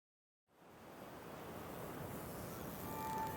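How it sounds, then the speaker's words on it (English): Ocean waves along the east coast of Taiwan start abruptly as a broad, steady rushing roar that swells slightly over a few seconds, with no voices. "We listen to the ocean and admire the whimsical coastline"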